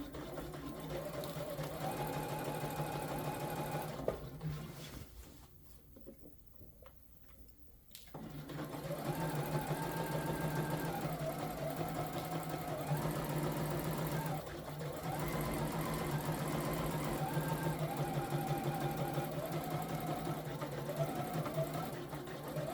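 A sewing machine stitches a seam about a quarter inch from the fabric edge in steady, rapid mechanical runs, pausing briefly partway before resuming, with a person talking over the whirring.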